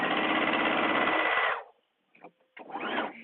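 A sewing machine runs basting stitches around a dress yoke as a loud, steady, rapid mechanical whir for about a second and a half. It stops abruptly, then a few brief rustles and a short restart follow.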